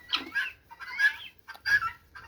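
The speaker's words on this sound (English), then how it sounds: "Oh, the lovely sound of guinea hens." Guinea hens calling in a run of harsh, rattling bursts, about four loud calls close by with short gaps between them, no voices.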